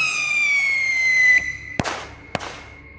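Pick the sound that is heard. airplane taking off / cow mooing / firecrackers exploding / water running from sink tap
firecrackers exploding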